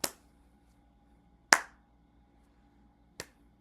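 A single person imitates slow crowd clapping with three sharp, isolated claps spaced about a second and a half apart in a quiet room, the second loudest.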